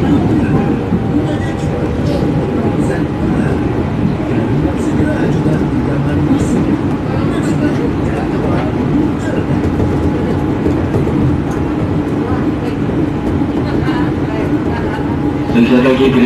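A Jakarta commuter train rolls toward Gondangdia station, a steady rumbling ride noise heard from inside the carriage with station announcements and voices over it.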